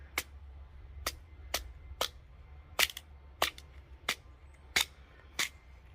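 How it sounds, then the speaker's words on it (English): Dried sunflower stalks being split apart give about ten sharp, dry cracks at a fairly even pace, close and crisp over a faint low hum, with no voices. "So we're going to split these stalks and see if we can scoop out the middle."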